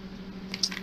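Diced tomatoes with celery and a little onion slide wetly into a soup pot, a brief soft squelching splash for vegetable soup, quiet and close.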